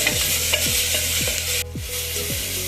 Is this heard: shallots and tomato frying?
yes